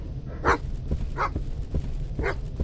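Repeated single barks from a dog in the horror game Stay Out of the House, three evenly spaced over a low droning game ambience, fairly close, with no speech.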